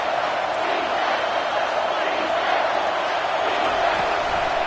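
A football stadium crowd roars in a dense, continuous wash of cheering and noise on third down, loud and sustained with no distinct voices.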